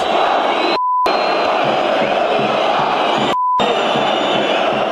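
Palmeiras football supporters in a stadium jeering their club's football director, a loud continuous crowd roar with shouting throughout, broken by two brief beep-like dropouts.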